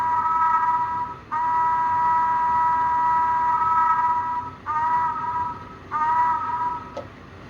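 A Bachmann 4-4-0 model steam locomotive's steady electronic sound-system whistle blows in several long harmonic blasts separated by short breaks, loud and close over a low hum.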